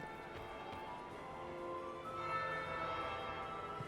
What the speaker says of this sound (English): That would be the second bell.